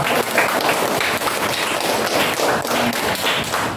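A sixth-grade class claps for a student, a close, uneven patter of hands with some thumping taps, lasting a few seconds.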